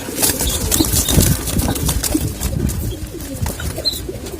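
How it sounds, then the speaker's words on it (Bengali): Several pigeons coo in a loft housing open-sky game-flying birds and their young, the soft low calls repeating close by amid a busy flutter of wings and rustling, with no talk. "আমার যেই ওপেন সাইড গেম খেলা কবুতর সেই গেম খেলা কবুতরের আরেকটা বাচ্চা"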